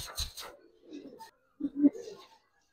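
Pigeons of an old Giribaz breed cooing softly in short low murmuring bursts close by, with brief faint background noise and no clear speech.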